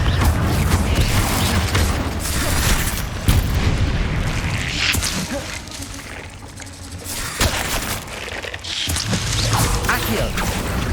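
Fire spell explosions in Hogwarts Legacy, a dense, loud run of booming blasts and crackling impacts one after another, with a voice speaking briefly over the combat.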